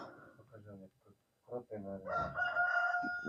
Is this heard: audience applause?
no